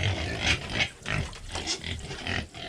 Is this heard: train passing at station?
no